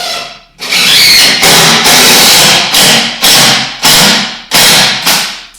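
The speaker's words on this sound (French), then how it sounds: "on va aller à l'extrémité pour visser les deux autres pour s'assurer encore de pousser le plus possible notre pièce de bois vers la première" A power drill drives screws into a wooden log wall during wall assembly: about seven loud, close whirring bursts, each rising then cutting off sharply, with brief gaps between them.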